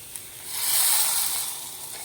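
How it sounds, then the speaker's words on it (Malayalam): Shallots and chillies fry in coconut oil in a pan for a pumpkin pulinkari tempering. A close, bright sizzle swells and then eases over about two seconds, with no talk. "വെളിച്ചെണ്ണ ഒഴിച്ചിട്ട് ചെറിയ ഉള്ളിയും മുളകും കൂടി വറവിടും"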